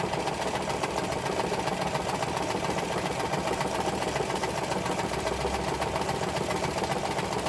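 A sewing machine stitches across the seam of a paper bag for a flip-up journal, giving a steady, close, mechanical whir that runs evenly throughout without pause.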